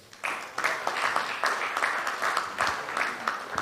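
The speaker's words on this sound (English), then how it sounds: "Let's welcome him with a round of applause." A crowd at a business breakfast meeting applauds, a dense patter of many hands clapping that swells and continues steadily, moderately loud.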